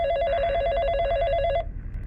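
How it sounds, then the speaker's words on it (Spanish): An old-style telephone bell rings loudly and steadily in a single continuous burst that cuts off abruptly, leaving faint room noise. "Fue entonces que otro teléfono sonó."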